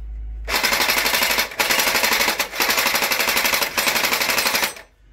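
Ares Tavor-21 gel blaster firing full auto on a 7-volt battery, loud fast rattling bursts in three or four long strings separated by brief pauses, ending abruptly.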